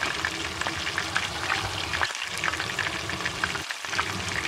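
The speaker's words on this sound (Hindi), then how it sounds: "उसके अंदर आपने one by one in sandwiches को डिप करते जाना है और डीप फ्राई करते जाना है." Battered chicken keema sandwiches deep frying as pakora in hot oil, a loud, close, steady bubbling sizzle broken by two brief dips as pieces are lowered in.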